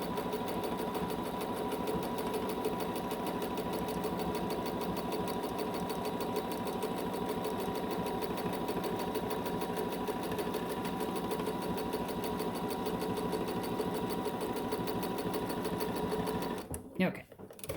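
A sewing machine stitches a bag in one long, steady, close run, its even mechanical whir continuing for most of the stretch before stopping near the end.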